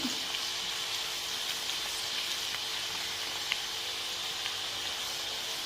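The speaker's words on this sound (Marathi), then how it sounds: "अजून थोडा वेळ आपण कांदा भाजून घेऊया" Onion frying in a pan for bangen masala, a steady close hiss and crackle of sizzling oil that continues evenly with small pops and no talk.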